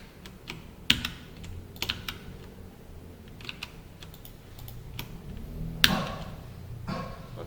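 Typing on a computer keyboard, with scattered clicks and a few sharper, louder key presses spread across a quiet room, no voices.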